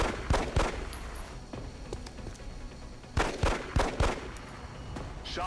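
Gunfire from the turn-based strategy game XCOM sounds as a cluster of sharp shots near the start and a second volley of rapid cracks a few seconds later, over a dull background rumble.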